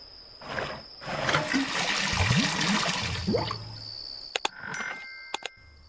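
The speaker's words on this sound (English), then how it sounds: "I'll use the bucket for what it was designed for. To be filled with water." In a point-and-click adventure game, a bucket fills with water in a loud rushing gush lasting a few seconds and fading out, followed by a few sharp chiming clicks.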